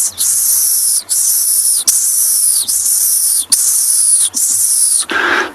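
Person imitating a dwarf mongoose contact call on a sunset safari: five or six sharp, high, hissing chirps in an even rhythm, loud and close, with no talk.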